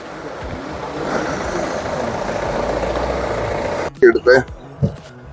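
A queue of jeeps waits for passes at Kolukumalai near Munnar, one engine idling steadily as a low continuous rumble that drops away abruptly near the end, followed by a few short louder knocks or thumps.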